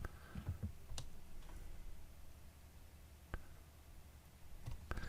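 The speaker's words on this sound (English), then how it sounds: "You can hear the radio kind of click a little bit." A FrSky Taranis radio transmitter clicks as its USB cable is plugged in: a few faint, sharp clicks spaced seconds apart over a quiet background, with no talking.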